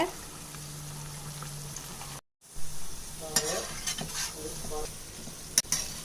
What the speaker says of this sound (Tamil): இதே மாதிரி நம்ம வச்சுருக்கிற எல்லாத்தையும் ஃப்ரை பண்ணி எடுத்துக்கலாம்